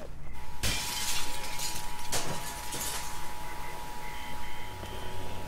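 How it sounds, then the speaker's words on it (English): In The Walking Dead video game, a thrown brick smashes through glass with a sharp, loud shatter, and a second crash follows about a second and a half later. Both ring out over a steady electronic hum. "just the brick alone would get their attention, the breaking glass"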